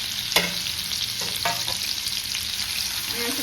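Garlic, ginger and coriander stems fry in hot oil for a homemade Schezwan chutney, a close, steady sizzle broken by the scrape and clink of stirring.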